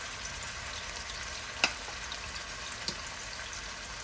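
Chicken frying in hot avocado and olive oil gives a faint, steady crackling sizzle, broken by two brief sharp pops.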